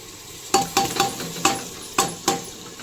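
Chicken biryani masala with garlic, ginger and green chili being stirred in a pan, the spoon scraping in about six sharp, evenly spaced strokes over a steady close sizzle.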